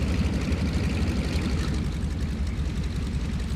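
A warplane engine in the video game War Thunder runs with a constant heavy, low rumble and fast rhythmic throb, loud and close throughout, no voices.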